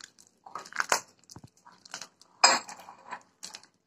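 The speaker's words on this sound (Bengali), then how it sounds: "দেখুন, কলাটা আমি হাত দিয়েই চটকে মাখছি" A banana is mashed by hand with semolina and flour for a coconut pancake batter, giving soft, irregular squelching and sticky squishes in short bursts separated by quiet gaps, close up.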